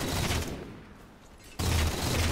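Light rifle shots in Halo 4, a loud burst of rapid fire that fades to a quieter gap before another sharp volley starts abruptly near the end.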